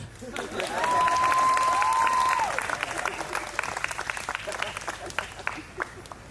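Wedding guests at the groom's father's toast break into applause and some cheering, the clapping loudest early on and then thinning into scattered claps, with a high whistle rising over the crowd and voices mixed in.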